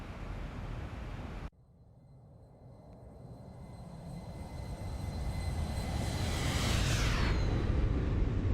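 Boeing 737-800 jet engines in the X-Plane 11 flight simulator, a steady broadband roar that starts abruptly after a brief burst, then swells gradually louder with a rising whine near the end, no talking.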